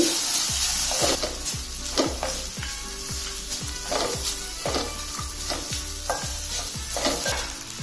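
Rice frying in a pan over a medium flame, with a steady sizzle and a regular, rhythmic scrape of stirring close by, the strokes repeating about every half second.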